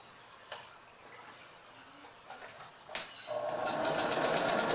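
A sewing machine starts stitching elastic onto a makeup bag, running in a steady, close whir for the last couple of seconds after a few faint handling clicks and a quiet lead-in.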